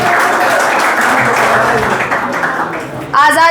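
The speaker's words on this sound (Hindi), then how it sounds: "सबसे पहले आप लोगों की तालियां बतानी चाहिए" Applause from a crowd at an Independence Day celebration at a defence academy, dense continuous clapping that swells briefly near the end, with voices mixed in.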